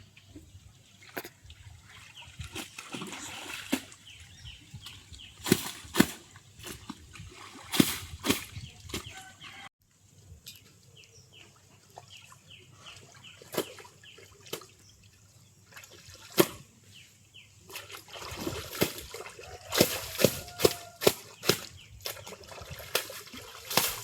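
Clothes being washed by hand in a large village pond ringed by banana plants, with irregular wet slaps and splashes of water rising and falling over about twenty seconds, plus faint outdoor rural background sounds.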